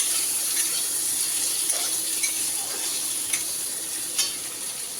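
Potato pieces frying in a pan, a steady hiss of sizzling oil with a few faint clicks of stirring, close and continuous with no talk.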